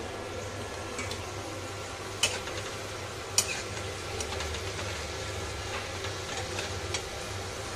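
Food fries in a pan with a low steady sizzle and a rumbling background, broken by a few sharp scrapes and clacks as it is stirred, with no talk.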